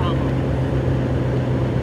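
A BMW car with a deep, truck-like engine note idles or revs with a steady low drone, loud and close, while people talk nearby.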